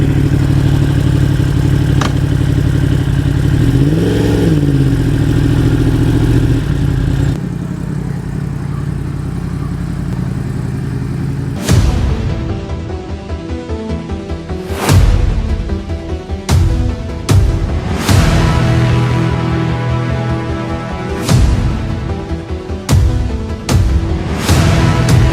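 A Yamaha R1 crossplane sportbike runs loud and close: a throbbing idle rises into a quick rev and falls back. Then come repeated sharp throttle blips and surging revs in separate bursts as the bike is ridden off.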